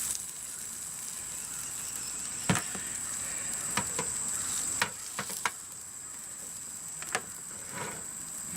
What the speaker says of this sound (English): Time to put a little bit of that on there and make me a fritter.